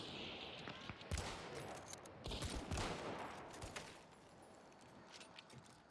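Rifle fire in Hunt: Showdown using a Vetterli and LeMat loadout, with several sharp, booming reports and their echoing tails spread across the clip, each shot sounding fairly distant with softer gunfire between them.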